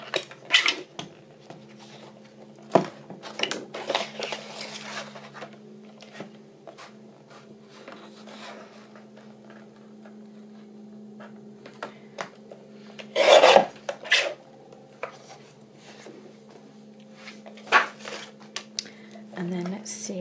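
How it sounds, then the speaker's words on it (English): A small paper trimmer slices through paper bag material for a handmade journal, giving short rasping cuts and scrapes against a quiet room, with one louder cutting burst partway through. "Where's my little trimmer? Okay, let's just trim this off."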